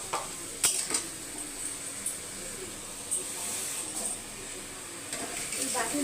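A ground paste of mustard, poppy seed and green chili is spooned into a hot pan and stirred, with soft sizzling, a few clinks and scrapes of a utensil against the pan, and some voice faintly present.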